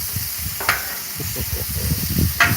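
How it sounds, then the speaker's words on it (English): Meat and cheese stirred in a cooking pan, giving a low sizzling, scraping texture with a couple of sharper clinks of the utensil, moderately close and steady throughout. "Stir it."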